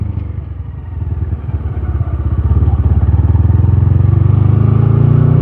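A motorcycle accelerates without the clutch, its engine rising from a rough, uneven idle into a steady, loud, low throbbing drone that grows fuller and faster toward the end, close by with no talking.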